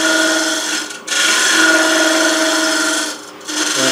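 A carbide scraper blade works gently across a spinning wooden hollow form on a lathe, giving a steady, close, abrasive rasp that drops out briefly twice before resuming.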